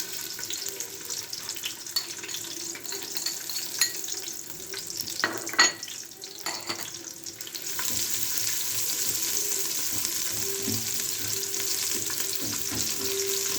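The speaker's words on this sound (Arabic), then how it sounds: "بفضل اشوح التومه كده لما تتحمر معايا" Garlic stir-fries in a pan until browned, a continuous close sizzle with stirring scrapes and a brief clatter midway, the hiss swelling louder and denser in the second half.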